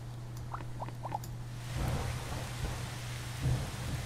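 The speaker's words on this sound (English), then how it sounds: "Oh, there's the rain" Rain in the Starbound video game, a broad hissing patter that swells in after a couple of faint squeaks, with a low steady hum beneath and soft thudding bumps.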